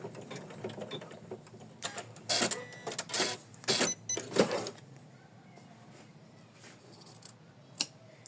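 An embroidery machine stitches a felt layer onto an in-the-hoop tulip heart design, giving bursts of rapid mechanical clatter in the first half that settle into a softer hum, with one sharp click near the end.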